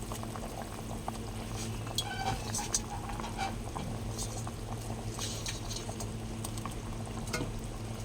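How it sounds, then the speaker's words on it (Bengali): Fish curry gravy with bata fish simmers in a pot, a steady bubbling and light popping patter that stays constant throughout, close and moderately quiet, with a few faint clinks and no speech. "ঝোলটা ফুটে গেছে, এবারে আমি মাছগুলোকে ঝোলের মধ্যে দিয়ে দেবো।"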